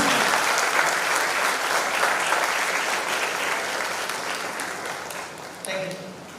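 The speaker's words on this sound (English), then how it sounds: "Can we have a loud round of applause" An audience at a live event in Margao applauds loudly and continuously, a dense wash of clapping that slowly tapers toward the end.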